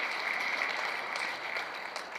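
An audience at a security and AI talk claps in a steady, even wash of applause that carries on alone without speech.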